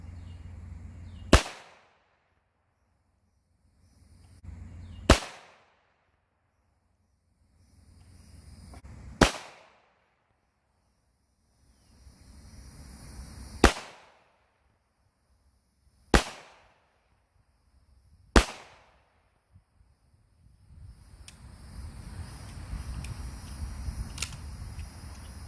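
.45 ACP pistol firing 230 grain lead round nose Acme bullets at 25 yards, six sharp single shots spaced a few seconds apart, with quiet range noise between.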